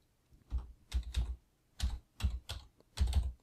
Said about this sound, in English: type the word that you are looking for